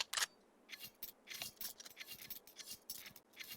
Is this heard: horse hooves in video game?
no